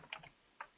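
Computer keyboard typing during a webinar: a quick cluster of three or four close key clicks, a pause, then one more isolated click, crisp and fairly quiet.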